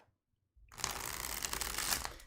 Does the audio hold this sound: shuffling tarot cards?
yes